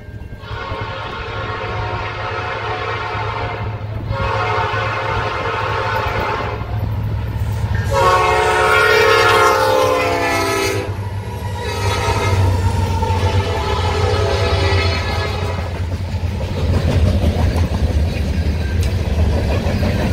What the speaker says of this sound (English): train number 4 for the day.